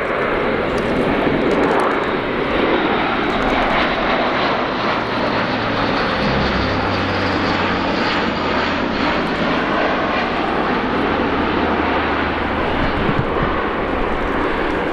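Loud, sustained roar of an Airbus A400M Atlas turboprop transport approaching with undercarriage down at an air show display, droning propeller engines filling the air close overhead for the whole stretch.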